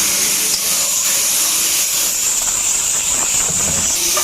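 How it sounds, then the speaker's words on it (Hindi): A pressure cooker in a home kitchen releases its whistle, a loud, continuous high hiss of escaping steam that holds steady without pause, alone and close. "देखो आप माला कुकर के सीटी सुनाई देत हो ही, अभी कावर की कुकर सीटी लग गए थे ना"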